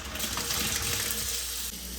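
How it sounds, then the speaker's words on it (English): A kitchen faucet with an under-sink Waterdrop filter runs in a steady, close, broadband gush of water as the filter is flushed, with no talking. "time to run this faucet"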